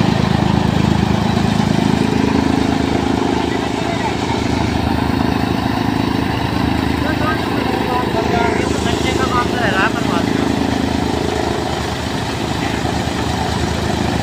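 An Eicher 485 tractor runs steadily under light load while driving a chaff cutter through a doubled pulley, a continuous close engine drone with machinery rumble throughout; someone talks over it.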